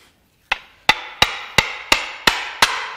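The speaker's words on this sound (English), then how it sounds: "And I'm hammering on it." Seven sharp hammer blows strike a part of a blown Mercury Marauder 4.6L DOHC V8 during a teardown, landing in an even, steady rhythm, close and loud, with no talking.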